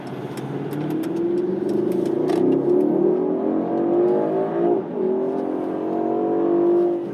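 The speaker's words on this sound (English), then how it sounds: "So in Sport Plus, you get the full power out of this vehicle" A 2021 Mercedes-AMG GLS63 SUV in Sport Plus mode accelerates hard under full power, its engine note rising steadily and holding each gear long, with a brief dip around a quick shift of the 9-speed automatic before climbing again, loud and close.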